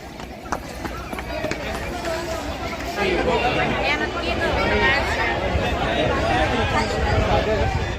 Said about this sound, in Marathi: खूप गर्दी आहे पण